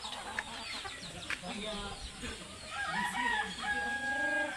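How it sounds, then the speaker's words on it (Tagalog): A rooster crows loudly close by, with its drawn-out call rising above a busy background of other fowl clucking and faint voices. "Mahog na si Jimbo sa iyang manok guys."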